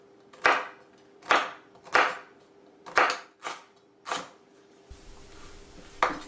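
A knife mincing a lemongrass stalk on a cutting board, about seven sharp, evenly spaced chops close up, with a brief pause near the end before one final cut.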